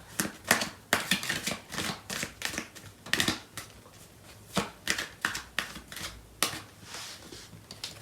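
Tarot cards are shuffled by hand in a riffle-and-cut rhythm, with repeated crisp flutters and soft slaps of the deck sounding close and clear, and no voices.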